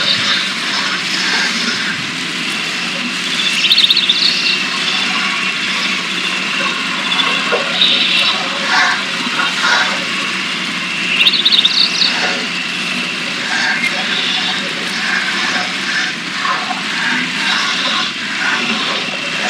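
A truck in the off-road video game Spintires churns through water, giving a continuous loud engine drone mixed with sloshing and splashing, with brief louder surges along the way and no voices.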